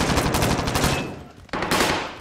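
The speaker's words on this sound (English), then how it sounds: "Taking fire here." Rapid automatic gunfire from a battle royale video game, a dense burst of loud repeated shots for about a second, a brief lull, then another sharp burst resuming near the end.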